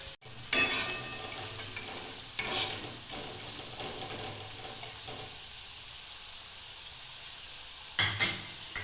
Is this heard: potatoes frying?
yes